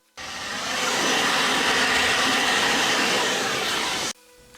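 A leaf blower clears grass clippings and leaves from the deck of a riding lawn mower, producing a steady, loud, close airy roar that starts abruptly, holds for about four seconds, then cuts off.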